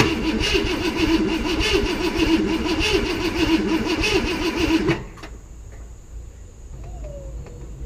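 A Ford Galaxie 500 engine is cranked to start but does not catch: a loud, rhythmic churning runs for about five seconds, then cuts off abruptly into near quiet.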